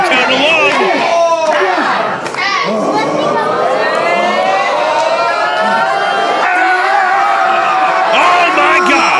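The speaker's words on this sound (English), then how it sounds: "Crowd count along." Loud indie wrestling crowd at the Barre Elks, dense cheering and chatter with a rising chant-like swell throughout, children's voices mixed in and no clear gaps.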